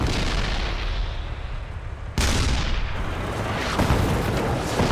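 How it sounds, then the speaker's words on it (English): Tank guns fire during a Vietnam War battle, with a heavy sustained roar of artillery, a sharp new blast about two seconds in, and continuous booming rumble with no talking. "The South Vietnamese open fire with deadly accuracy."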